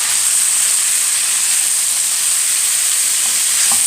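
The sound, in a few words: chicken frying and sizzling in a pan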